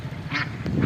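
Farmyard ducks quack twice in quick succession, close and fairly loud, in a short burst with no one talking.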